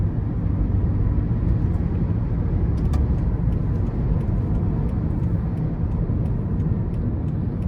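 A 2011 Toyota Prius hybrid pulling out of corners, heard from inside as a steady, loud broadband road and engine rumble with a few faint ticks, no talking.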